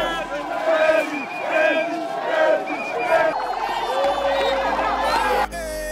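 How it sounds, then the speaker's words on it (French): A huge outdoor crowd at Place CP1 in Yopougon cheers and shouts for the return of Charles Blé Goudé, loud, dense whoops and chanting over a continuous roar of voices throughout. "Une foule immense s'est rassemblée pour être témoin de son retour."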